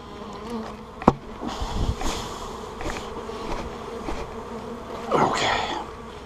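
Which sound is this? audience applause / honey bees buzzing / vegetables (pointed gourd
honey bees buzzing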